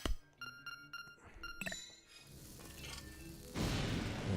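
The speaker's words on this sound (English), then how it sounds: "Let's blow this up." A bomb explodes in The Legend of Zelda: Link's Awakening, a game sound of debris and clinks followed by a loud, broad burst near the end, over game music.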